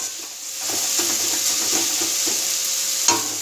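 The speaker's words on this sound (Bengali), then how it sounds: "ভাজা ভাজা হোক" Food frying in a pan after salt, turmeric and sugar are added, a steady close sizzle with light scraping stir sounds throughout and one sharper clink near the end, no talk.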